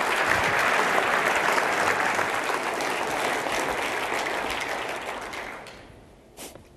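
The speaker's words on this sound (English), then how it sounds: "a round of applause for these guys for amazing demos today" An audience at a business technology presentation gives a round of applause after product demos, dense sustained clapping that fades out over several seconds to quiet.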